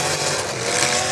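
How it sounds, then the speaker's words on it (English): A car engine revs hard during a demolition derby race, a loud, dense, roaring drone that stays steady and harsh with crowd and arena noise mixed in and no talk. "Man, that engine of his sounds so good."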